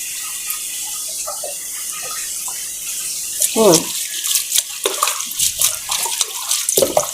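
Salty rice vermicelli noodles being rinsed and rubbed by hand in a basin of water, steady running water with splashing and squishing bursts growing busier in the second half, close and moderately loud.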